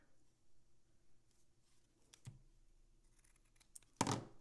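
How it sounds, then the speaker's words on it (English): A few quiet snips of scissors trimming ribbon, with one sharp, louder cut near the end, against a soft rustling background. "we can just trim off the ends here"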